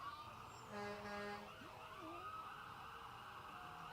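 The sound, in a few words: ambulance siren passing in a Christmas parade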